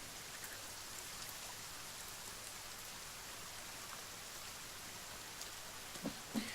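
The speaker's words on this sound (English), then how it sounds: "it's raining" Steady rain falls in The Forest video game, a soft continuous hiss of drops on surfaces, faint and unbroken for the whole stretch, with a couple of small knocks near the end.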